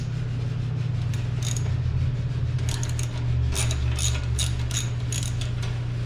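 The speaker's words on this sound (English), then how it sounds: "we want to loosen off the axle pinch bolt again with the 12 millimeter." A 12 mm wrench works loose the rear axle pinch bolt on a 2014 Honda Shadow Aero VT750 motorcycle, giving close, clear metallic ratcheting clicks in quick bursts over a low steady hum.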